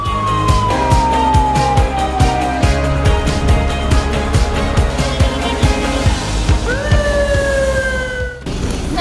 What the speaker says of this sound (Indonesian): saat ini kami sedang berkeliling menggunakan mobil pemadam kebakaran